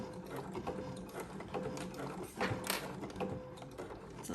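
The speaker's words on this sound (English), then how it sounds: "over to the machine and get this sewn in place" A sewing machine stitches through the thick layers of a quilted box bag, giving a steady, fairly quiet mechanical whirr with slight rhythmic variations and no talking.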